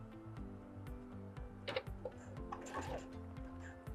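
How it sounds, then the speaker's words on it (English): A home sewing machine stitching through a fabric tote bag, quiet rapid ticking bursts with short pauses between runs, close and fairly faint. "I'm going to put it under my sewing machine"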